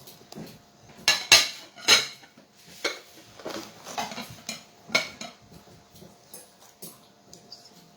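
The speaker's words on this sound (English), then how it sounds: "So I'm mashing them in the bowl now." Two small bananas mashed in a bowl with a utensil for granola: a series of irregular clinks and scrapes against the bowl, with louder knocks near the start, close up and with no talk.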